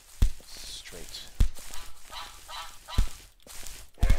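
Ducks honk repeatedly in the Minetest video game, sharp calls recurring every second or so against continuous game sound effects, with someone talking over them.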